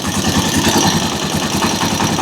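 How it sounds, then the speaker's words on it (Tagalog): Chariot175 vehicle's engine idling steadily up close, a continuous loud rumble with a fine rapid pulsing throughout and no talk. "So, ganito yung tunog ng ating makina."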